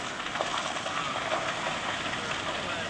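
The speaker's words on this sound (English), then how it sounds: "There's the loco. Simmering away there." Steam locomotive simmering at the Dahuichang limestone quarry in China, a steady soft hiss of escaping steam heard at moderate distance with no other distinct events.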